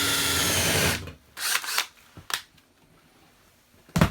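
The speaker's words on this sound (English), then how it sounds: "I'm going to put a couple holes in the sheetrock" A power drill bores holes in sheetrock: a loud, steady whir for about a second, then several short, sharp bursts of drilling separated by quiet gaps, with one last burst at the end.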